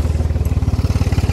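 A Tümosan tractor engine idles in a forest, loud and close, with a fast, even chugging pulse and a slight mechanical clatter, no voices.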